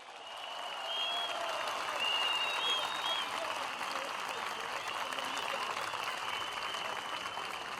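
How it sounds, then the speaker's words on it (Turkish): Crowd at a CHP political rally in Kartal, Istanbul applauding steadily for several seconds, a dense wash of clapping with faint cheering over it. "Mehmet Murat Çalı, Maçka'nın yiğit evladına yürekten bir alkış yolluyoruz"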